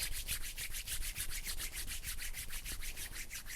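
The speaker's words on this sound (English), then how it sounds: "As we just give them a nice rub, warming the palms." Palms rub together briskly during a yoga session, a soft, rhythmic swishing of skin repeating about four times a second, close and quiet with no talking.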